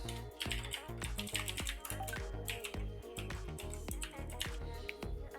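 Quick, irregular keystrokes on a computer keyboard clatter softly and continuously, close to the mic.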